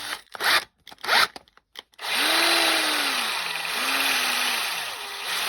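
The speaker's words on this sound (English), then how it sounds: "Now, I'm only going to drill one hole." Small drill with a tiny chuck boring a single hole, heard after a few short scraping bursts as a steady motor hum whose pitch rises and dips as the load changes.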